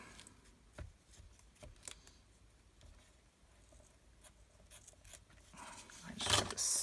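Scissors cut ribbon close by in a few faint, sparse snips over quiet handling noise, followed by a louder rustling burst near the end.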